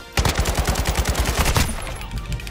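Rapid automatic gunfire in a Call of Duty match, a fast burst of about twenty evenly spaced loud shots over roughly a second and a half, then a short tail with no one talking.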